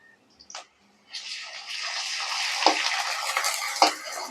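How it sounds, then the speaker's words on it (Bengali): Ginger garlic paste hits hot oil with fried onions, a soft hiss and sizzle that rises after a couple of quiet clinks and continues steadily with occasional spatula taps. "পেঁয়াজটা ভাজা হয়ে গেছে, এখন আদা রসুন বাটা দিয়ে দিলাম।"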